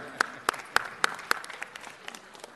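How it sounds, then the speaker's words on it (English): A handful of sharp, evenly spaced claps at a city council meeting, followed by a few scattered, quieter ones, like a small group applauding briefly. "Joel, big round of applause."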